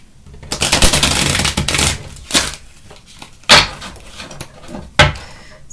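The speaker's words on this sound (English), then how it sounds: "see if I can shuffle today" A tarot card deck is shuffled by hand in several bursts: a long riffling flurry, then shorter sharp riffles and snaps separated by quiet gaps, close and fairly loud with no talking.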